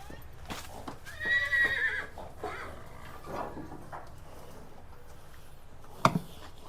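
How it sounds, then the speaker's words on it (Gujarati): A horse on a riding farm lets out a loud whinny midway, with a few hoof clops and a sharp knock near the end, while someone talks quietly to the horse before and after the call. "આ રહ્યો ઘોડો"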